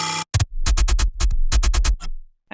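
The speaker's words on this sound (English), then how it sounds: "the sounds that have been created through FM are these two" Gritty FM-synthesized noise bass with distortion effects fires in short, punchy stabs in a choppy rhythm, loud and wide-band with deep low end and brief silent gaps between bursts.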